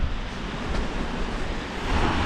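Sea waves wash continuously against the coast at Durdle Door in Dorset, a broad steady roar of surf mixed with wind buffeting the microphone, with no voices.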